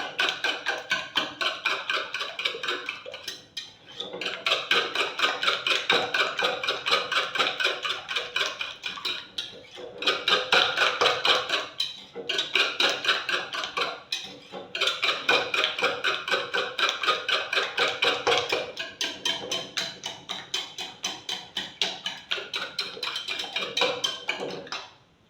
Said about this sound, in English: Whisk it very well.